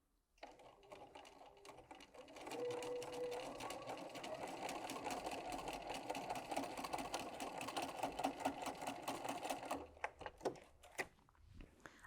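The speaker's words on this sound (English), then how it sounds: "very carefully, I'm going to sew on the line that I've drawn" A sewing machine stitches a quilt block seam along a drawn line, a fast steady run of needle clatter lasting about seven seconds, then a few slow separate stitches, fairly quiet and close, with no voices.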